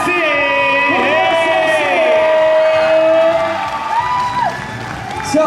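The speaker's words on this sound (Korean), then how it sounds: "여러분 큰 박수 보내주세요." A crowd applauds and cheers at a b-boy award ceremony in Jeonju, steady loud clapping mixed with whoops and shouts, while a voice carries over the noise.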